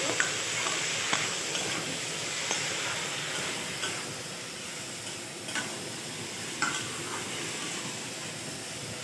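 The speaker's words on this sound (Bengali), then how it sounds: "ভেজে নেব একটু সবজিটা" Ridge gourd and potato pieces fry in a pan with salt, giving a steady close sizzle and hiss broken by occasional clicks of a stirring utensil, with no voices.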